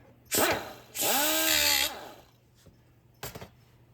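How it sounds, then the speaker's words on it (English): An angle grinder cuts down metal on a 1955 Chevy, shaping it for LED tail lights. Two loud, close bursts of whining grinding are heard, one short and one longer, then a brief final buzz. "Just gotta grind all that down."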